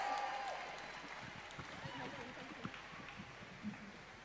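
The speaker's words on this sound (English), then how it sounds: "One last cheer for your champion, Ellie Simmons, everyone." A crowd at the British Para-Swimming International finals at Tollcross applauds and cheers for champion Ellie Simmons, a steady distant wash of clapping with a voice talking over it.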